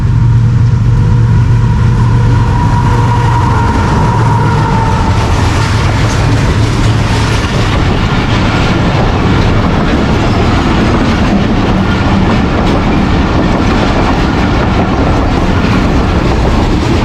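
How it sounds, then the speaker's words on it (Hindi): Karakoram Express train passing Chak Jhumra railway station, a steady, loud, close rumble with rolling wheel clatter that fills the whole stretch without pause. "अब कराकरम एक्सप्रेस सिर्फ आधा घंटा लेट रनिंग के साथ पास करेगी चक झुमरा रेलवे स्टेशन।"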